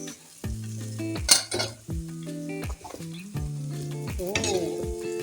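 Salted patin fish belly drops into a hot pan with chili and is stirred, bringing bursts of sizzling alongside tonal metal utensil scrapes and clanks against the pan.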